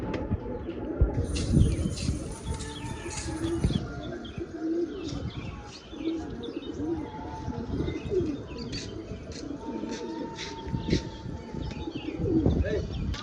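Hyderabadi pigeons cooing in a loft or rooftop flock, with soft chirps and some wing flapping, continuous and fairly near, under someone talking.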